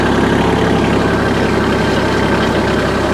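Tractor engine held steady on auto throttle at about 1,300 RPM while stirring hay on a farm, a loud, constant low idle-like drone filling the whole stretch with no talk.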